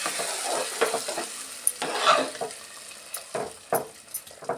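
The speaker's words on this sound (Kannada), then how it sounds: "ಈ ಥರ ಪೊಂಗಲ್ಗೆ ಸೇರಿಸ್ಕೊಂಡು ಮಿಕ್ಸ್ ಮಾಡ್ಕೊಳ್ಳೋಣ" Tempering is stirred into khara pongal with a spoon scraping through the pot, soft sizzling under a few distinct stirring strokes, with no talking.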